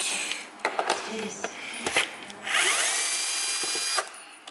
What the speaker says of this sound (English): So we are going to start by pulling some screws out.